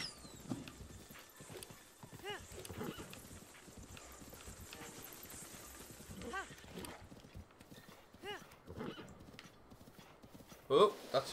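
Horse hooves clip-clop at a steady gallop across open ground in the game Breath of the Wild, with a couple of whinnies and game sounds over a quiet background.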